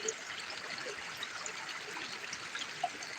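Water runs steadily through a gold miner's sluice beside the South Umpqua River as the top mat is cleaned out, a constant close trickling wash with no talk.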